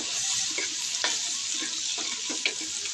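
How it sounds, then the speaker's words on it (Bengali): Garlic and ginger paste fries in hot oil with onions for a beef head meat biryani. A dense, continuous sizzle carries a few light stirring scrapes. "মশলাটাকে এবার তেলের সাথে ভেজে নেব যেন কাঁচা গন্ধ না থাকে"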